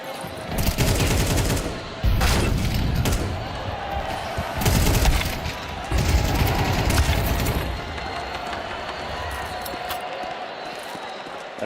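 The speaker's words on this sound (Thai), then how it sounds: "ตอนนี้ก็ยิงกันยับครับ" Gunfire from a professional Counter-Strike 2 (CS2) match at Intel Extreme Masters: loud, rapid bursts and clusters of shots come in several waves, with a commentator talking over the action.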